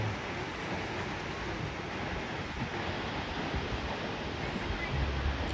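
Continuous rushing roar of the Tad Fane waterfall in southern Laos, a steady broadband wash of falling water heard from fairly close, with no talk over it.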